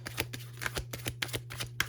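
Tarot cards shuffled and drawn in a reading, a run of quick crisp riffling bursts repeating every few tenths of a second, close and clear over a steady low hum.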